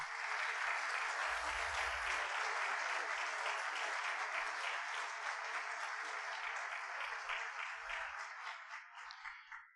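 An audience at a panel discussion on digital money applauds a speaker being introduced, a sustained, even round of clapping from many hands that holds steady for several seconds and then tapers off at the end.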